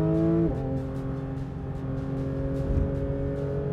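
A 2023 Porsche 911 GT3 RS, 525 hp revving to 9,000 rpm, accelerates at full throttle out of a slow corner on a wet Silverstone track: a loud, rising engine note with a gear change early on, then a sustained climbing howl.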